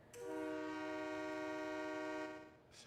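A locomotive horn from Trainz Simulator 2006 sounds one sustained multi-chime blast of about two seconds at steady loudness, alone, then fades out.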